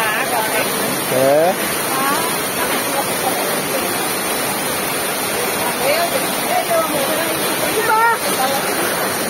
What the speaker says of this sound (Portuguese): quando chove, a água vem